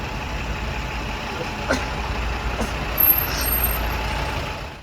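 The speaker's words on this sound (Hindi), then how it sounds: "अब ट्रैफिक हल्का खुला तो हमारी बस धीरे धीरे आगे बढ़ रही है।" A bus creeping forward through a jammed mountain road on the Himalayan Char Dham pilgrimage route, with a low steady engine rumble, a couple of sharp clanks and a brief hiss of air brakes over dense traffic noise.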